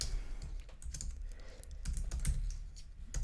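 Typing on a computer keyboard while working through coding exercises: a steady, close run of quick key clicks with uneven rhythm and occasional louder strokes, no voices.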